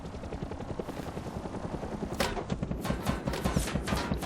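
An attack helicopter in the Rust video game keeps up a steady, loud, close rotor chop, its rhythmic thumping growing stronger partway through.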